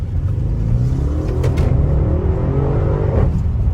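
An Audi RS7 with a DSG gearbox accelerates hard, its deep rumbling engine building steadily with rising tones and a couple of quick gear-shift blips, loud and close from inside the car.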